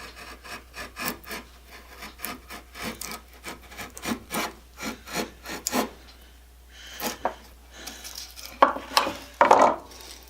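A draw knife run back and forth across wood gives a quick, regular series of rasping, scraping strokes, close and clear, that loosen toward the end into longer, louder scrapes.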